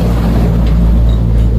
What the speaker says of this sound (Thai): ก็ขออภัยเสียงรถบรรทุกด้วยนะครับเพราะผมตกอยู่